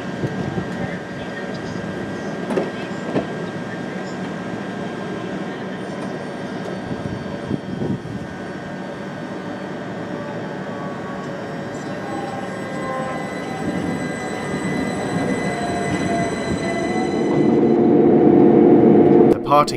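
A c2c commuter train pulling away from West Ham station on its run between Fenchurch Street and Shoeburyness, a steady rolling rumble and engine drone heard from the cab that builds louder toward the end, with no one talking.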